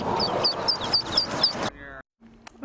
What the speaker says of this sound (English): 11 ducklings fell into a storm drain and got trapped.